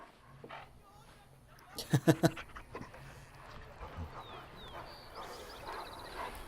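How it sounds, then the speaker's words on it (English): Dog barking excitedly in the video game Dragon Age Origins: a quick burst of several close, loud barks near the middle, then softer panting and yips, with someone talking over parts of it. "Barking excitedly."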